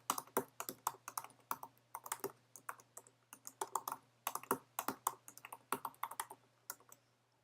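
A password being typed on a computer keyboard, a rapid close run of sharp key clicks in uneven bursts over a low steady electrical hum, no speech.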